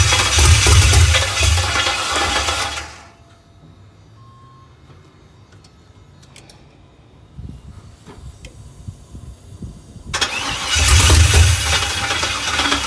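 A Chevrolet C10 truck engine cranking and turning over on its first start, loud and close, in two bursts with a quieter gap in between and no voices.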